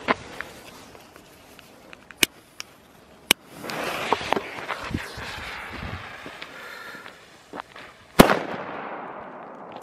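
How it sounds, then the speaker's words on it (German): Several sharp cracks of Weco cube-shaped cannon-cracker firecrackers scattered through a stretch of hissing and crackling, ending in one loud, close bang. "Weco-Kanonenschläge."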